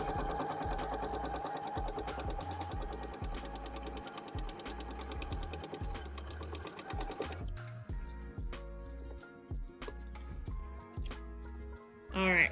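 A sewing machine stitches a leather wallet with a zipper at 2.4 stitch length, running in a steady rapid rhythm for several seconds, then pausing and giving short bursts before stopping.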